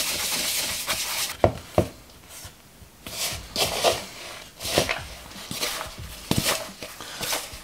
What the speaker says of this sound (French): Vous pouvez vraiment la malaxer à la main, ça ne colle pas.